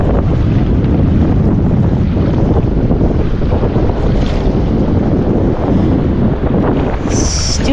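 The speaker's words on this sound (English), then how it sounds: "Stupid wind" Strong wind buffets the microphone at a beach near rocks and rippling water in Pass-A-Grille, St. Pete, Florida, a steady loud roar with constant rumble that covers the whole scene without letup.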